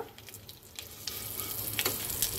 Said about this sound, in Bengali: জিরা তেজপাতাটাকে আমি 2 মিনিট ভেজে নেব